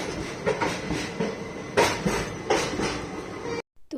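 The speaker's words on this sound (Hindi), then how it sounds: "तो यहाँ पे रेलवे स्टेशन से निकल चली है हमारी ट्रेन" A passenger train pulls out of Bangalore railway station, with rhythmic clanks and clatters from the cars repeating every half second or so, close and fairly loud, with rushing noise between the beats before a brief drop to silence at the end.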